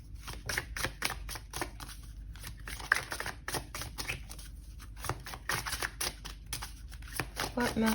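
Oracle cards are shuffled by hand in a rapid series of crisp riffling flicks and taps, close and clear, pausing briefly and then resuming.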